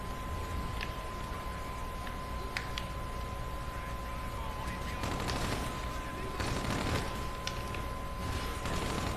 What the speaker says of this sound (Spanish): No paran de dispararme el escudo